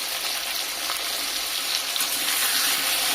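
Potato pieces with salt and turmeric fry in hot oil, giving a loud, steady, close-up sizzle that stays even throughout without pauses or voices.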